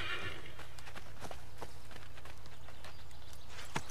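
A horse whinnies briefly at the start in the video game Assassin's Creed III, then hooves clop irregularly over a constant low hum, with a few sharp clicks and knocks.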